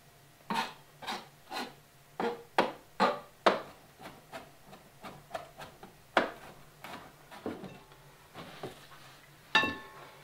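A knife finely minces on a cutting board for escargot filling, giving quiet rhythmic chopping strokes in irregular bursts, close and alone with no talk.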